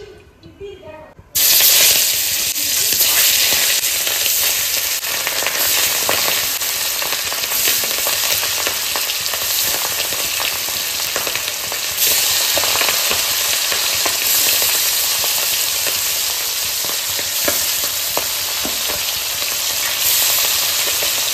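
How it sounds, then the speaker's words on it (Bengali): A generous pour of oil in a large, hot kadai sizzles with a steady close hiss, starting abruptly after a quiet moment and holding evenly to the end. "বড় কড়াই হচ্ছে, একটু বেশি করে তেল দিয়ে বসাই দিই।"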